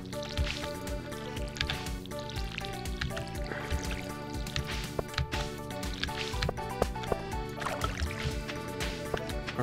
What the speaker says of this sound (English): Sure, let's water the crops that aren't there.